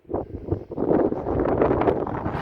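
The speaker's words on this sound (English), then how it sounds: "God, it's windy." Strong wind gusts buffet the microphone at a hilltop fort overlooking a bay, a low, rough roar that swells and rushes continuously with no voices heard.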